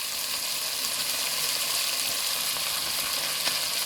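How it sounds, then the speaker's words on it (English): Browned oxtail meat going back into a hot pot sizzles steadily and loudly, a dense continuous frying hiss with no talking over it. "Alright now guys, so I am adding back my meat to the pot."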